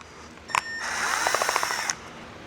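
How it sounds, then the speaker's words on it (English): A power screwdriver removes screws from underneath a boat fixture, a short metallic whir followed by a longer steady buzzing run with small clicks, close by and loud, with no talk. "now we'll remove these screws underneath"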